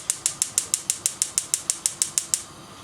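Gas stove burner being lit for soup on a home kitchen hob: a fast run of about fifteen evenly spaced sharp igniter clicks over roughly two and a half seconds, then quiet.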